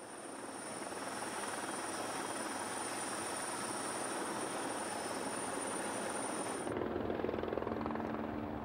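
An air force Fennec helicopter during winch training at an air base gives a steady, loud rotor and turbine drone throughout, its tone shifting near the end.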